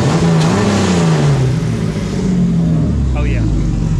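The engine of a full-size 1:1 scale remote control Jeep runs close and loud, with a steady droning rumble and slight revving, under someone talking.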